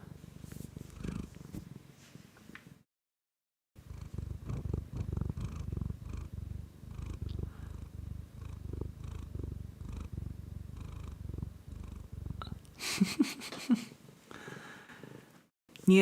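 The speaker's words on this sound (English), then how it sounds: "she purrs like an engine" A cat purring loudly and very close, a continuous rough, rhythmic rumble with brief breaks and a pause near the start, plus a few soft rustles and snorts toward the end.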